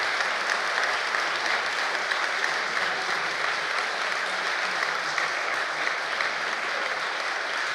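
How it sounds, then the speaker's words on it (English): Audience at a 2024 general election hustings giving sustained applause, a dense, even wash of clapping that holds steady throughout without any voices breaking through. "let's give him a round of applause so loud he can hear it behind the screen"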